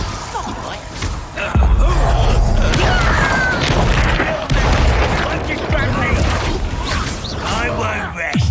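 Bombarda explosion spells in Hogwarts Legacy go off as repeated loud, booming blasts amid the constant clatter of magical combat, with dense action sounds throughout.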